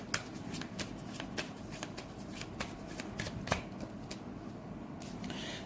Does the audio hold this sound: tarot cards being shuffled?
yes